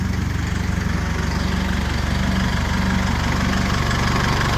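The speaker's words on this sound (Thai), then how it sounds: "เสียงเครื่องเงียบๆนะครับ" The 2.5-litre common-rail diesel engine of a 2005 D-Max SLX pickup idles steadily up close, a low, even chugging rumble that holds constant throughout with no talking.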